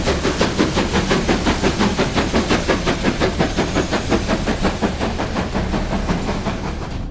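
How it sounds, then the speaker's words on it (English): Steam locomotives at the Schiefe Ebene incline in Neuenmarkt chuff hard and loud in a fast, steady rhythm of exhaust beats with hissing steam, continuous and close. "several steam trains arrived at Schiefe Eben in Neuenmarkt"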